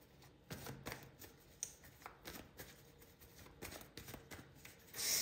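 Tarot cards are shuffled by hand close up: a quiet, irregular run of soft riffling flicks and taps with a louder riffle at the end, and no talking.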